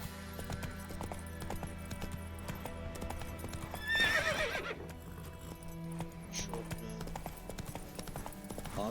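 Roach, a horse in The Witcher 3 video game, trots with steady clip-clopping hooves over a background music bed, then gives a loud whinny midway before the hoofbeats carry on.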